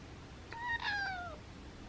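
A domestic cat lets out a single drawn-out meow that rises and then falls. It is fairly quiet and close, with no other sound around it.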